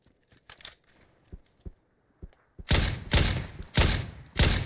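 Loud bursts of gunfire from a PUBG battle-royale match sound in rapid succession after a few scattered faint taps, with the shots close and dominating the end of the clip.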